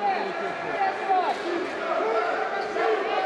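Crowd at a Hungarian basketball game, Jászberényi KSE against Egis Körmend, whistling and jeering at a referee's call; a continuous roar of many voices with sharp whistles rising above it, beneath a commentator talking.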